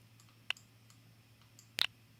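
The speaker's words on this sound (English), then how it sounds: "I just heard you clicking." Two sharp computer mouse clicks, one alone and then a quick double snap a little over a second later, faint and close against a low steady hum, with no talking.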